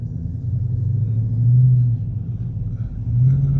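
A Dodge Charger Scat Pack's deep, throaty exhaust, sounding muffler-deleted, rumbles steadily at idle, swelling slightly twice as the engine is blipped, fairly close and loud.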